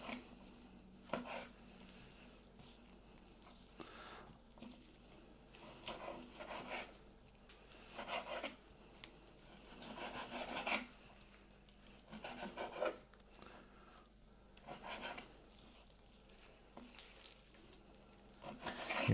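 A knife chops meat into small cubes for Armenian khashlama: irregular bursts of cutting strokes on a board, separated by short pauses, moderately close and fairly quiet.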